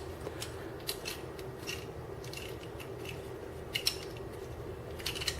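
Plastic parts of a Transformers Generations Hoist toy folding and pegging into place: faint, sparse clicks and snaps scattered over a low steady hum, close by and quiet.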